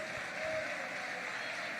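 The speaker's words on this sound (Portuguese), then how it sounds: "Aplauda Jesus Cristo." A church congregation claps in a brief, faint wash of applause, even and distant, lasting under two seconds.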